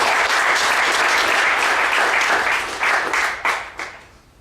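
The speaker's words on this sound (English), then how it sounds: "so a clap for the chairs as well" A colloquium audience claps for the session chairs, a thick, loud round of applause that holds steady before thinning into a few scattered last claps and fading out.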